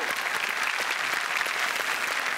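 A studio audience on the Marathi comedy stage show Chala Hawa Yeu Dya breaks into strong applause, a thick, even crackle of many hands clapping that keeps going throughout.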